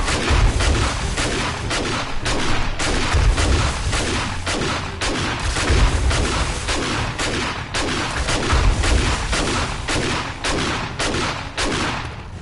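Rapid, loud shotgun blasts from 7 Days to Die fire in a steady, close rhythm of repeated booming shots that run for several seconds with no pause between them.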